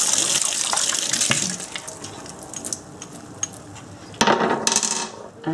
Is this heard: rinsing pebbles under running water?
yes